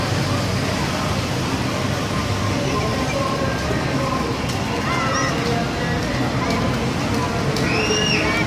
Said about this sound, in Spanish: Se aproxima la lluvia este 19 de abril de 2018.